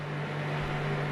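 A Samsung microwave oven runs with a steady, close hum and a constant low drone under a soft fan-like hiss.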